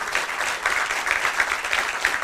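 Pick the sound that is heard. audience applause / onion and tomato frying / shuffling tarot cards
audience applause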